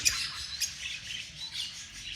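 An exhibition pair of finches kept in a pet setting give short, sharp squawks and chirps, several calls scattered over a couple of seconds, fairly close and fairly quiet against faint background noise.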